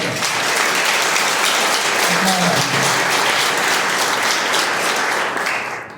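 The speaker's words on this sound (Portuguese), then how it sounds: "Uma salva de palmas para a Igreja Católica" A gathered group applauding during a Catholic talk on the Eucharist, loud dense clapping that holds steady for several seconds before tapering at the end, with a brief voice faintly underneath.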